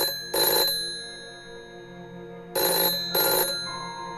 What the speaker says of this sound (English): jarred from a deep sleep early one morning by his phone ringing